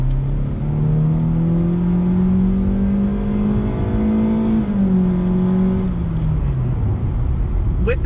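A 2020 Honda Civic LX with a CVT accelerates out of a roundabout, its engine drone rising steadily in pitch, easing briefly, then climbing again, heard loud from inside the cabin.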